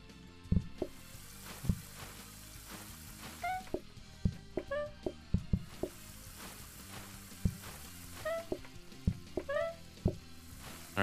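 Onion rings fry in the cooking game PlateUp!, a soft, steady sizzle running beneath scattered game effects: sharp clicks, knocks and brief rising chimes pop up every second or two over the quiet bubbling.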